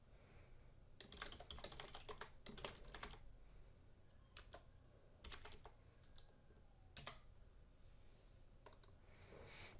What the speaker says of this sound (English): Type in the name of the page.